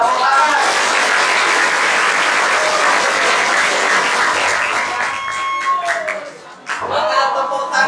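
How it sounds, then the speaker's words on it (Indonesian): A congregation at a Maulid Nabi religious gathering breaks into loud, dense applause that fills most of the stretch, thinning near the end as scattered claps and voices take over. "Tepuk tangan."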